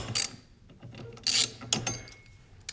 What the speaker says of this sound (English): 10mm socket. Stick it in there. Just break it loose.